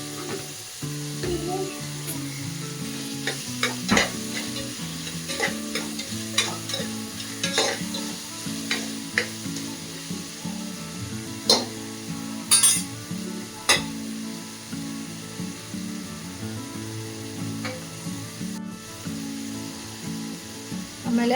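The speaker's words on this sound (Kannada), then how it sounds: "ಚೆನ್ನಾಗಿ ರೋಸ್ಟ್ ಆಗಬೇಕು" Paneer and vegetables for pallav roasting in a pan, with a steady close sizzle broken by repeated scraping and clinking stirs at an uneven rhythm; no voices.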